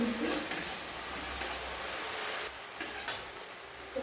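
Chicken with chopped onions and spices frying in a pan for a chicken pocket spring roll filling, a steady close sizzle broken by a few scraping stirs of a utensil.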